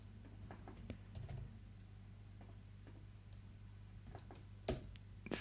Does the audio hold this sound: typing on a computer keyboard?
yes